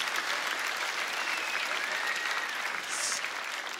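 A comedy show crowd breaks into applause, a soft, even wash of many hands clapping at a distance that stays steady for about four seconds, with a faint voice in the background.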